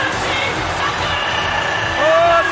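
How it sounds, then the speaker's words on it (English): Roaring arena crowd cheering at a Pride mixed martial arts event in Saitama Super Arena, dense and continuous with whistles and voices rising near the end. "Listen to the crowd."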